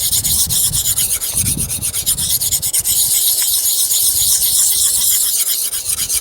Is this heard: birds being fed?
no